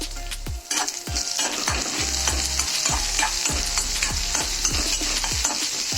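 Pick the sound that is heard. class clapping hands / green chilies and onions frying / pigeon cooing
green chilies and onions frying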